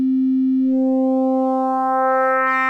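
Two Eurorack synthesizer oscillators cross phase modulating each other give a steady, pure held tone whose bright harmonic overtones gradually swell in, sounding alone and loud.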